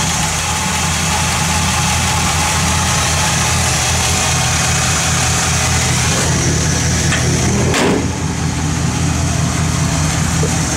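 A 1950 Chevrolet 3100 pickup's 350 V8 idles loud and close with an even, rumbling tone that holds steady throughout, plus a brief clatter near the end.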